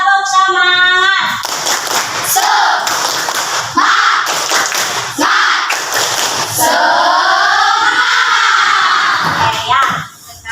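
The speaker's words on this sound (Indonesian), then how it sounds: "Ayo, tepuk semangat." Schoolchildren in a classroom perform a rhythmic clapping chant together, loud and close, with sharp patterned claps interleaved with their voices chanting in unison.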